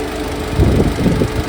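A 2017 Honda WR-V diesel engine idles close by with a low, steady rumble and slight knocking pulses.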